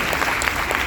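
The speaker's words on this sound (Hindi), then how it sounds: "धर्मेश त्रिवेदी सर, एक बार जोरदार तालियां उनके लिए भी" Audience applause at a talk held at a resort in Silvassa: a dense, steady burst of many hands clapping together, loud and close throughout the short stretch with no voices over it.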